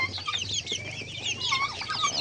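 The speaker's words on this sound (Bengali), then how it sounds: "এখানে আছে 9-10 পিস মুরগি," Native hens cluck repeatedly in a small makeshift coop holding about nine or ten birds, several overlapping calls close by over a steady farmyard background, with no talking.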